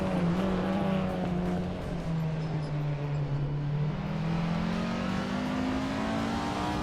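A Peugeot 208 R2 compact rally car races around the tight Tsukuba short circuit, its engine a close, steady drone whose pitch dips and then climbs as it accelerates.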